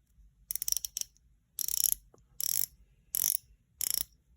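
Diver's bezel on an AVI-8 watch being turned, close, crisp ratcheting clicks in five quick bursts separated by short pauses.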